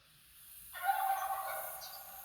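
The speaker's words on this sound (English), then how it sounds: "I hear a turkey." A wild turkey gobbles once in the hunting game theHunter: Call of the Wild, at Lake Prospect in Silver Ridge, a faint, quick warbling burst rising over quiet outdoor ambience.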